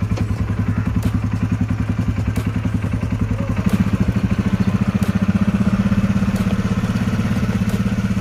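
A motorcycle carrying a child on a ride on the road toward Gulmarg, its engine chugging loudly and steadily at close range with a fast, even pulse that rises slightly partway through, no talking over it.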